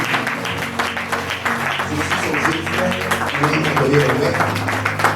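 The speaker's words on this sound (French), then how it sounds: "Acclamez d'abord notre Dieu." A church congregation applauds at a lively service, dense continuous clapping blended with crowd voices and sustained musical tones, loud and steady throughout.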